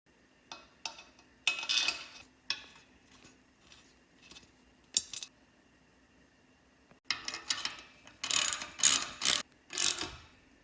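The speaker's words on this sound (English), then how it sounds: "Now tighten all the screws." Screws are tightened while assembling an Innova inversion table, heard as sparse ratcheting clicks in short bursts separated by quiet pauses, with a louder, denser run of ratchet strokes near the end.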